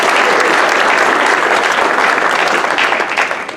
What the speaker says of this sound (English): Let's give that team a round of applause.